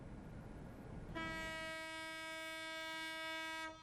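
A Chang'an China-Europe freight train departing Xi'an International Port sounds a long, steady, loud horn blast lasting over two seconds, rising abruptly above low rumbling rail noise and cutting off near the end.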